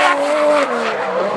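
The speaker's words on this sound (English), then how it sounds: "gets through and nice and easily there, and puts the foot down, the jaws tech motor there" A race car with a Jaws Tech engine accelerates hard out of a chicane, giving a loud, close, continuous engine roar whose pitch shifts as it pulls away, with a gritty tyre edge beneath.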